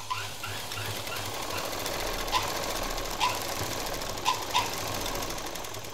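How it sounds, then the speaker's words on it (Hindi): A sewing machine stitches a fabric shopping bag in a steady, fast mechanical chatter that runs continuously, with a few faint clicks over the whirring drive. "इसलिए हमें एक चाप की दूरी से अंदर से मशीन चलानी होगी।"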